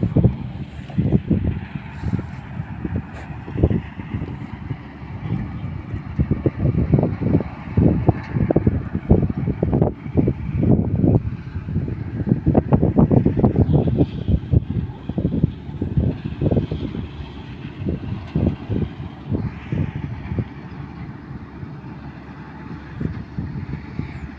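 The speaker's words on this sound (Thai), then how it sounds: "ตอนนี้ก็ได้ยินแต่เสียงลมนะครับผม" Strong wind blows outdoors in rural northeast Thailand as the cold season sets in, a loud, continuous low rumble with buffeting gusts that swell and fade throughout, with no talking.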